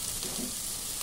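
Onions frying in a pan for a broad bean curry, a steady close sizzle with soft crackle running the whole moment, no voices.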